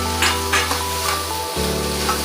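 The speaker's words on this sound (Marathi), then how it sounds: "आता मी त्यामध्ये 2 कापून घेतलेले टोमॅटो टाकत आहे" Chopped tomatoes hitting a hot pan for chicken curry gravy, a close, steady sizzle with a brief bump as they land, no voices.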